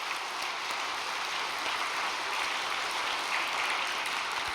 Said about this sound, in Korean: 우리 신일본의 지도자님들과 우리 식구님들께 정말 응원의 큰 박수를 한번 보내주시기 바라겠습니다.